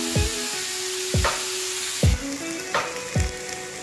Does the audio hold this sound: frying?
yes